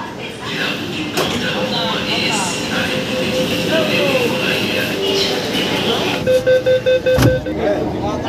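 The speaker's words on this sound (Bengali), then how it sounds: "মেট্রোও চলে এসেছে" A Kolkata metro train from Sector 5 pulls into Sealdah metro station with a loud rumble and a faint wheel squeal, followed by a run of repeated beeping tones near the end, while people talk over it.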